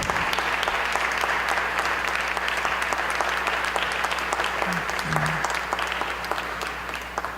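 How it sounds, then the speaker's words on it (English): An audience at Urban Forum 2023 gives sustained applause after a high school color guard performance, dense, even clapping from a large crowd that carries on throughout and eases slightly toward the end. "Let's give another round of applause to the McKinley High School color guard"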